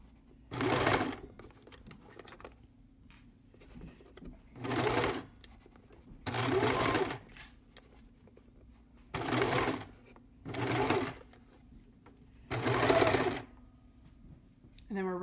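A sewing machine stitches quilt block pieces one after another in short whirring bursts of about a second each, separated by pauses. A quiet hum runs underneath.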